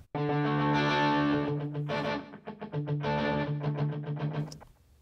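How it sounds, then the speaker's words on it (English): A distorted electric guitar plays chopped chords through a delay effect at 11% feedback, each hit trailing into quieter echoing repeats. "Let's listen as we add feedback."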